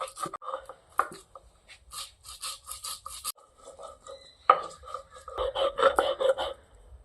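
Ginger, coriander and cardamom being ground into a paste on a stone, with irregular scraping and rubbing strokes, close and moderately loud, with a few sharper knocks; no speech.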